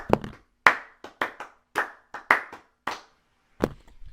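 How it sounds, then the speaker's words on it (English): Sparse, scattered clapping from a small audience at the close of a clothing-brand marketing course, a handful of distinct sharp claps with gaps of silence between them, close and uneven. "one more round of applause"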